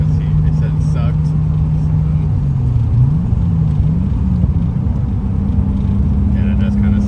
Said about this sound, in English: I'm about to try downshifting right now